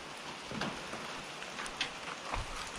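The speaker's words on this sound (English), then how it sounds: "Listen to that rain hitting the tin roof." Rain drumming on a tin roof, a steady patter with a few louder drops standing out, heard fairly quietly and without talk.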